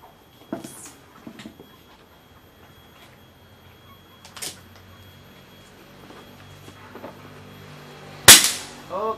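An air rifle with a 19 tube and 60 barrel is test-fired outdoors, giving a few sharp isolated pops spread across the clip, the loudest near the end, amid faint background noise.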